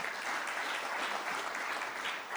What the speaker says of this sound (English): Round of applause for our Secretary General.